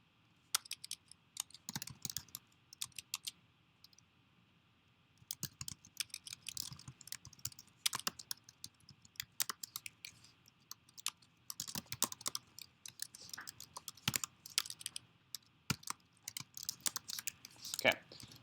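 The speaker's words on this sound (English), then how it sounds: "I'm just going to go through here and type out the code really quick." Code typed on a computer keyboard, a close, quick patter of soft key clicks in bursts separated by short pauses, with a voice speaking now and then.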